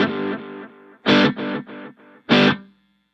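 An electric guitar played through distortion and a delay effect picks out a sequence of gritty notes. Repeating echoes trail each note, and two louder accented hits ring out before a clean, abrupt stop.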